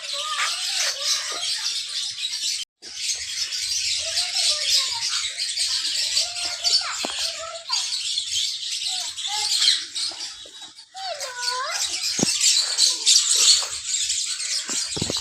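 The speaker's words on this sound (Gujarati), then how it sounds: "ચલા બધા પોપટ" Parrots squawk and chirp continuously in a shrill, busy chorus, close by and fairly loud, with brief pauses between bursts of overlapping calls.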